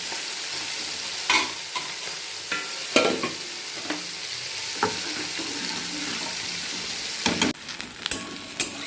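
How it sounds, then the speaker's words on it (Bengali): Onions frying in a pan in a home kitchen, a steady close sizzle with scattered clinks and stirring knocks from a utensil, no voices. "এখন পেঁয়াজগুলো ভাজছি।"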